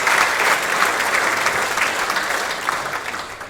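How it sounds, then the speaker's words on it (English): An audience at a school sports awards ceremony gives steady, loud applause for the event staff, a dense continuous clapping that tapers slightly toward the end. "How about a round of applause for our staff who are going to help us with the awards?"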